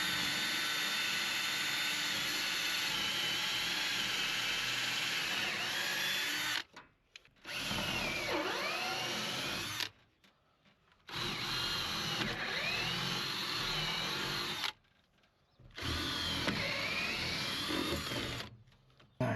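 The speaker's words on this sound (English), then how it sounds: "we'll grab the drill and we'll show you that process" A power drill with a 1/4-inch bit bores pilot holes for a camper van roof rack. Four loud, steady whining runs are separated by short pauses.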